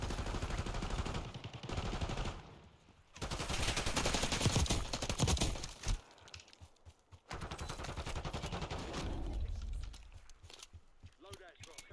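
Sustained gunfire in a shooter video game, with dense rapid bursts that come and go across the stretch, heard under and between the voices of people talking.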